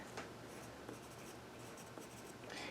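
A pen scratches out a character's name on a paper sheet for a role-playing game, soft, close strokes in quick bursts with brief lifts between.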